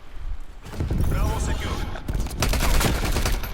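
Rapid automatic Uzi fire in the first-person shooter game Call of Duty Cold War, dense bursts of gunshots filling nearly the whole stretch, loud and close with a short lull midway.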